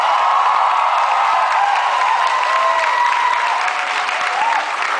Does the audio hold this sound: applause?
yes